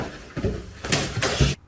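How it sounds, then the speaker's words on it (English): An indoor door in a cottage kitchen thuds shut, a few faint, close knocks and bumps spaced across a couple of seconds in a quiet room, ending abruptly. "The kitchen door shut."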